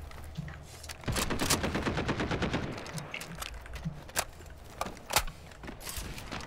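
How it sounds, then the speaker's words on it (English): Sniper gunfire in a tactical shooter video game, a string of sharp cracks and rapid bursts, some loud and close, others farther off, with brief talk in between. "I'm getting sniped at."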